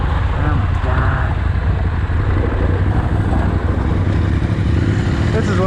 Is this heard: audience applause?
no